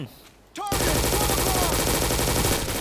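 Sustained rapid automatic gunfire erupts after a brief lull in a Roblox RECOIL shooter match, loud and continuous with dense rattling shots.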